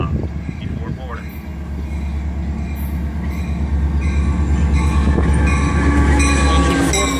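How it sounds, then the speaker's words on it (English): A Metra commuter train hauled by an MP36 locomotive rolls through Grayslake station in Chicago's suburbs, a loud, close rumble of engine and wheels that builds steadily, with squealing, a horn-like tone and a station announcement voice over it. "The next outbound Metra train from Chicago is now MP36-3S engine."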